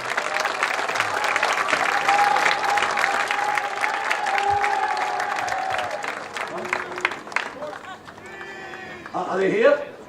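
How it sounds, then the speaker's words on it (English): Audience applause at the 2017 BostonLax All American Game awards ceremony honouring award winners, a sustained wash of clapping from a large crowd that fades slightly near the end, with a voice briefly audible late on. "let's have a nice round of applause for all of our award winners here tonight"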